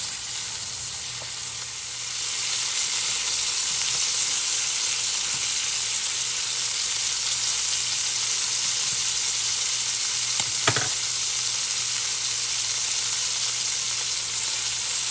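Ham pieces sizzle in a pan, rendering fat for cooking corn: a loud, continuous close frying hiss that swells after the first couple of seconds, with a brief clatter near the end and no talking.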